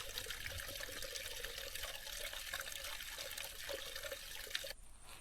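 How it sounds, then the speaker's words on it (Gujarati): A stream flows through the quiet forest at the Kevdi Ecotourism Center in Chhota Udaipur district, a steady, close rush of water that continues without pause and then drops off abruptly at the end. "આ પાણીનો ખડખડ અવાજ પણ અહીંયા આવી રહ્યો છે."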